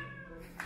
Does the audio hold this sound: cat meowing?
yes